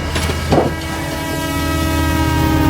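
A passenger train travels along the rails with a steady, loud rumble and a sustained horn-like tone, heard up close with no voices.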